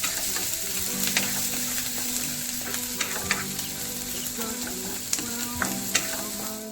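Onions for a homemade meat burger are stirred and fried in a pan, giving a steady close sizzle with scraping utensil strokes and occasional small knocks.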